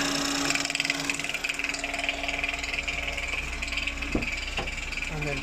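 Ford EcoBoost 1.0 engine idling with its oil cap popping, a close, steady idle rumble under a rapid fluttering pulse, with a couple of sharp knocks near the end.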